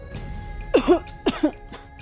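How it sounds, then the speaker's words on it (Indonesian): Two harsh, forceful coughs in a row, close up, each a rough burst with a strained, throaty edge. "Dia duduk di tanah dan batuk dengan keras."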